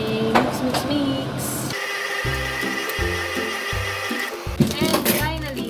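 Chocolate chip cookie dough being mixed after baking soda and salt go in, a steady whirring churn running for a few seconds in the middle, bracketed by clattering handling noise and a voice.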